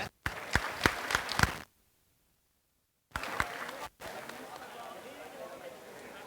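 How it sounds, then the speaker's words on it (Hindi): Audience applause welcoming guests at an eye camp event in Berasia, a burst of clapping with a few strong claps, then a sudden silent gap before the clapping returns briefly and fades into a room murmur. "कृपया जोरदार तालियों से स्वागत।"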